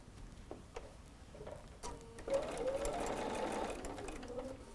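A sewing machine stitches pieced quilt fabric for a tree block, its motor whirring steadily and growing louder midway through the run, with light ticks at the start and no talking.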